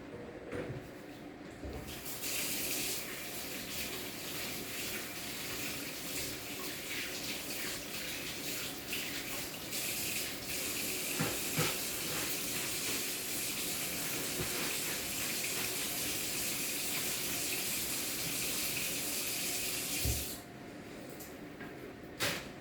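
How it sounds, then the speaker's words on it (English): A tap runs steadily as hands are washed at a sink, a continuous close splashing hiss lasting about twenty seconds before it stops. "We're going to wash our hands."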